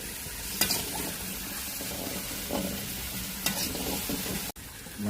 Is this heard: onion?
yes